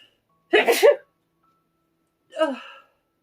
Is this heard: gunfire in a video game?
no